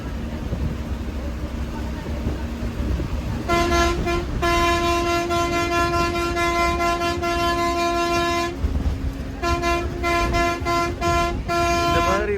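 A Tamil Nadu private bus on the Cuddalore–Pondicherry run sounds its loud multi-tone air horn in two long blasts, the second broken into rapid stuttering honks, over steady road and engine rumble from inside the bus.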